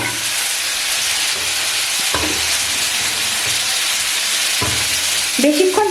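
Potatoes fry in a pan with a steady close sizzle, broken by a few sharp scraping clatters of stirring, and a short voiced sound comes at the end.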